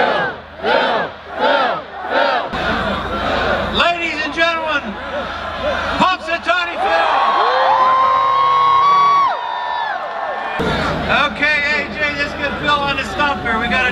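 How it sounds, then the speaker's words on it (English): A Groundhog Day 2020 crowd chants together to wake the groundhog, rhythmic shouts rising into whoops and cheers, loud and outdoors, with an announcer's voice over the crowd. "we're going to do a chant"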